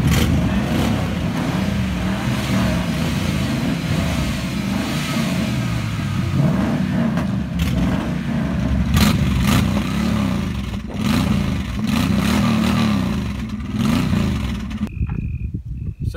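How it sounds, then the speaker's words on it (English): A car engine revs loudly and continuously up close, rising and falling with a rough mechanical rumble, then cuts off abruptly at the end. "Don't be that guy who feels the need to rev up his engine in the parking lot."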